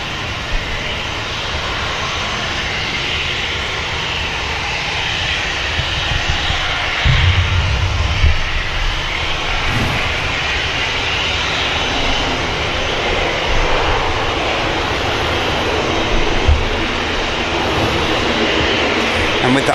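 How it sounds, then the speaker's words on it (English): An ATR turboprop airliner touches down on runway 23 right at Manchester Airport, a continuous loud engine and rushing roar with low thuds partway through. "ATR touching down on 23 right."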